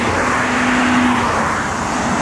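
A truck passes close by on a roadside near the Iran border, a loud, steady broadband rush of engine and wind that fills the whole moment, with a faint low tone and no talking.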